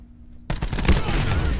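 Rampart 17 rifle firing in Call of Duty: Black Ops 4, a burst of rapid gunfire kicking in abruptly after a near-silent start and hammering on loudly to the end.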